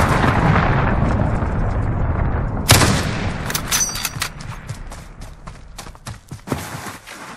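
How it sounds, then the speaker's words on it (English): Cruise missile strikes and gunfire in Call of Duty Warzone: a loud sharp blast near the middle, then a rapid string of close explosions and gunshots that keep cracking through a rumbling battle din. "Allied cruise missile launched"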